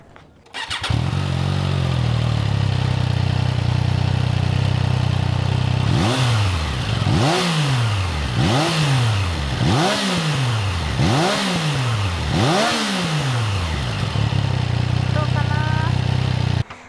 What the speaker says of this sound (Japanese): では、エンジン音をね聞いてみましょう